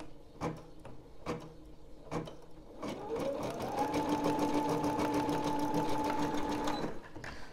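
A SKITCH embroidery machine stitches a keychain. A few sharp clicks come first, then a close, fast, rhythmic mechanical whirr runs steadily for several seconds before stopping.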